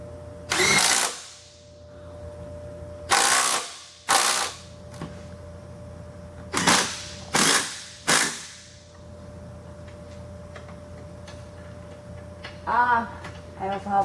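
A tool drives shock bolts while a lift is fitted to a cheap trail Jeep: loud, short bursts of rapid clicking come in separate spurts between quieter pauses, with a faint steady hum beneath.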